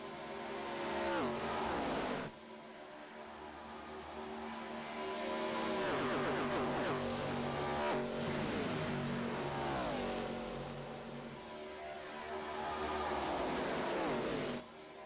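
Race cars in a sim racing game at Daytona roar continuously, with engine pitch rising and falling through repeated upshifts and several overlapping cars in a pack, loud and steady throughout.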